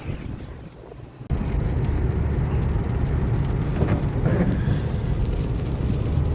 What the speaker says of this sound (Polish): specjalnie pokazałem szybę mokrą, bo trzeba dodać, jest to bardzo ważna rzecz, że u nas pada